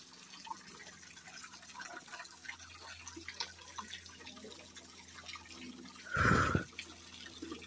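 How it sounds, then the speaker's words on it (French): Running water from a small garden fountain at the Marqueyssac gardens: a soft, steady trickle under outdoor ambience, with a brief louder splashing gush near the end. "Il y a une petite fontaine."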